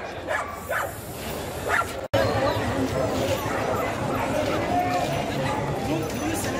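Dogs and puppies barking and yipping at a crowded Friday puppy market in Egypt, with sharp barks breaking through constant chatter and talk of sellers and buyers.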